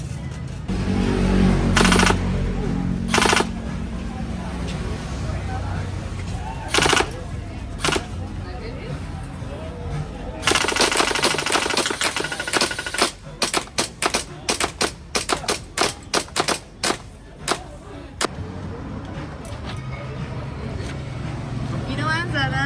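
Guns are fired at a shooting range in Thailand: a few isolated loud shots, then a long stretch of rapid sharp cracks in a fast irregular series. People talk throughout, with steady background rumble.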